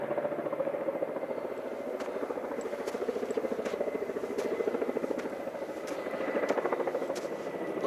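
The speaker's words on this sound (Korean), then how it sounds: "헬기 떼었나, 헬기?" A helicopter flies near a mountain hiking trail on Jeju's Hallasan, its steady rotor chop throbbing continuously at moderate volume for the whole stretch, with no voices over it.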